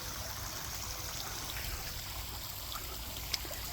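Water gushes steadily out of the piping of a pond waterfall, a faint, continuous rushing and trickling heard from a distance, with one small splash near the end.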